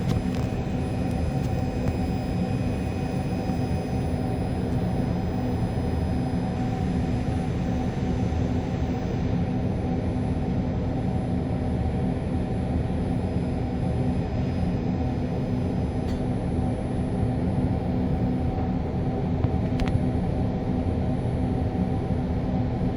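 A stationary REM commuter train waits to depart, its steady loud hiss of air venting from the sides filling the space as a broad constant rush with faint high tones.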